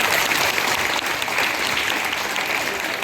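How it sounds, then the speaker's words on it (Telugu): A crowd of parents and students at a mega parent-teacher meeting claps for the teachers, a loud, continuous wash of applause filling the hall without pause. "క్లాప్స్ కొడితే"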